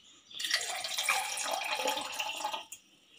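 Water pouring steadily into a container for gooseberry ginger lemonade, a continuous close splashing stream lasting about two seconds before stopping abruptly.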